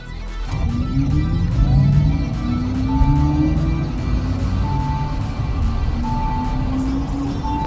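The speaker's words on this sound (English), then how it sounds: "This is when we'll have maximum acceleration." An electric performance car launching at maximum acceleration, heard from inside as a rising electric whine that climbs steadily in pitch over a loud rumble of road and cabin noise.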